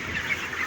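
Chickens cluck in a poultry shed, a short burst of several near clucks with no talk.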